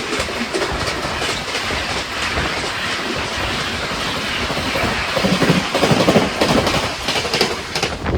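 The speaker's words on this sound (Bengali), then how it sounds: "ফ্ল্যাট 130-তে ক্রস করছে কলকাতা আগ্রাকান্ড এক্সপ্রেস।" Kolkata–Agra Cantt Express crossing at a flat 130 km/h: a loud, steady rush of rolling wagons with rapid clickety-clack of wheels over rail joints, swelling slightly toward the end, with no voices.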